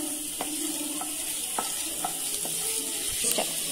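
Chopped ginger and garlic frying in hot oil for a mushroom chilli, with a continuous close sizzle broken by regular light scrapes and taps of a spatula against the pan.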